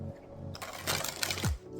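Tarot cards being shuffled by hand indoors, a brief papery riffle and rustle at close range, fairly quiet, with no talking over it.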